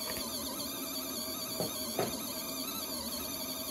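A mini portable washing machine churning a load of dirty socks, a steady continuous whir and water swish with a couple of soft knocks, close and even throughout.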